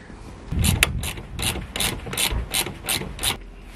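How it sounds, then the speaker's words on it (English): Two spanners work on the suspension bolts of a Mk5 Vauxhall Astra, making a run of about eight evenly spaced metallic ratcheting clicks and scrapes, close by and fairly quiet. "we'll just have two spanners like that and just do it up that way"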